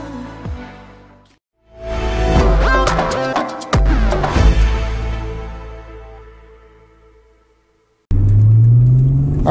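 A 2005 Acura NSX engine revs and pulls hard on a spirited drive, heard from inside the cabin as loud rising rumbles with a pause before another strong surge.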